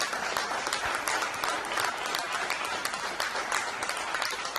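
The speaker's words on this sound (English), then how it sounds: "can we have a round of applause for this Oscar award style show" Audience applause at a corporate review summit, a dense, even wash of many hands clapping that holds steady throughout at a fairly distant, moderate level.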